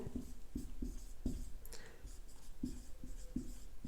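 Handwriting with pen on paper during a Class 10 maths lesson solving polynomial problems: soft, close, rhythmic strokes and taps that come in quick bursts at a low, quiet level.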